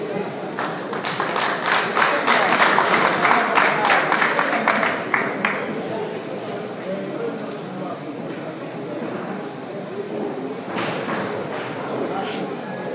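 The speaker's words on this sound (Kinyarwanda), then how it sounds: "Amashyi menshi." Crowd clapping at a farewell memorial evening, a dense burst of hands in the first five or six seconds that thins into scattered claps under ongoing talk and background noise.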